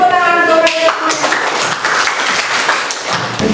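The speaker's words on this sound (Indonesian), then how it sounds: "Beri tepuk tangan untuk kalian semuanya." Students in a classroom applauding together, a dense burst of clapping that follows a brief voice and continues steadily for several seconds, close and fairly loud.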